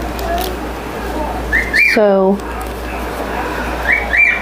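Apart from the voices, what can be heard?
pet cockatiel whistling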